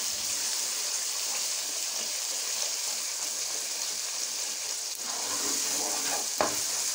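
Masala of tomato and onion sizzling in a pan while being stirred and roasted, a steady dense fry hiss throughout with a few scraping stirs near the end.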